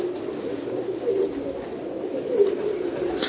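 Cross-bred desi pigeons coo in a low, steady murmur, soft and close, with a couple of brief brighter notes over the continuous hum.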